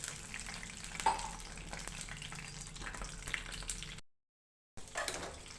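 Mustard seeds and curry leaves spluttering in a pan after water is added during tempering, with a soft, steady crackling sizzle and sharp pops, a short break, then sizzling again.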